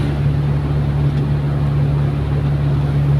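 A carbureted Mitsubishi L300 with full air conditioning drones steadily at about 2300 rpm while moving at 55 km/h, a loud continuous low engine hum with no change in pitch.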